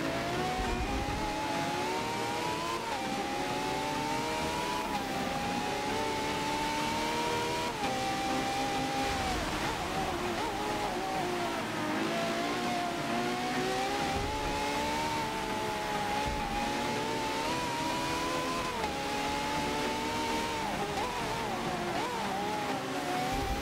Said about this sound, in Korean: 레이싱 게임 들고 왔습니다. 포르자 모터스포츠 7입니다.